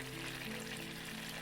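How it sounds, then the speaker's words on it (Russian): Chicken pieces frying in a pan, a steady, soft, close sizzle of hot oil with a faint low hum underneath and no talk. "Переворачиваем курицу и обжариваем еще 4-5 минут с другой стороны."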